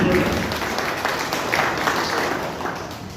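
Dense applause from a crowd fills the space, a continuous wash of clapping that slowly fades toward the end.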